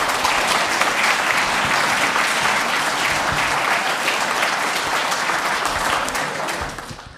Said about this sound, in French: Je voudrais qu'on les applaudisse aussi de leur soutien.